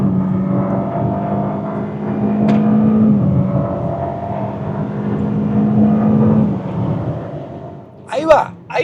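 A Kia K4 GT-Line accelerates in Sport mode, its engine drone rising steadily with simulated gear shifts breaking the pitch. Someone talks over it, and a sharp burst comes near the end.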